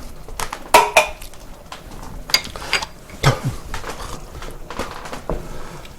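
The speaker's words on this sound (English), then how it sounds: "Let's stir this up." A spoon stirring beer chili with tomato puree in a metal pot, with irregular close scrapes and clinks of utensil against the pot over a low, quiet background.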